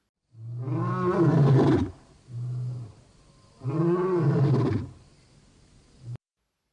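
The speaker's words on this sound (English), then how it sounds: "That is a lion's roar." A lion roars twice in deep, powerful bursts, each followed by a short lower grunt, close and loud with brief silences between.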